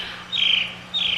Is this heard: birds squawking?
yes